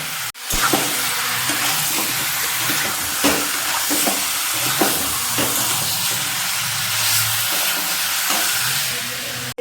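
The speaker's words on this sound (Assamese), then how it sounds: "প্ৰথমতে মাংসখিনি বঢ়িয়াকৈ মই ভাজি ল'ম" Steady sizzling and crackling of meat frying in a hot pan, with occasional clinks and stirring scrapes, continuous and fairly loud.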